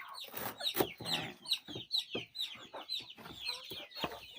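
Chickens, with chicks and ducks nearby, cluck in quick repeated bursts while pecking at chopped Madre de Agua leaves, a busy, fairly faint chorus of short calls.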